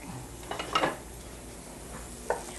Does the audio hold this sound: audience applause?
no